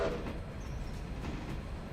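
A train runs in the video game Railroader, giving a steady low rumble with faint rhythmic clicks, continuous and moderately loud with no talk.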